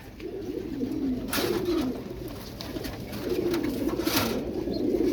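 Pigeons coo in soft, repeated low rolling phrases, close by, with a steady hiss of background noise and no talking.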